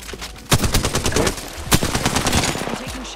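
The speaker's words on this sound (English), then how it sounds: "I'm taking shots. Taking fire." Loud, close gunfire in the video game Apex Legends, with bursts of rapid shots rattling almost continuously for a few seconds and a heavy crack partway through.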